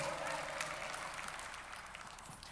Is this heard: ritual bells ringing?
no